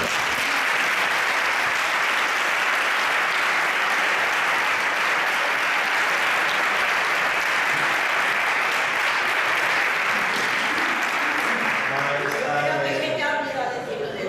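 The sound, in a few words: audience applause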